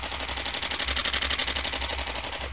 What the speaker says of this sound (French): C'est un truc de ouf le mode rafale, il est vraiment impressionnant.